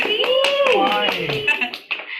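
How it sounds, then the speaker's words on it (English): Several people clap briefly in a small audience as a speaker is welcomed onto a stage, the claps mixing with a voice and other talk in the foreground. "Give her an applause."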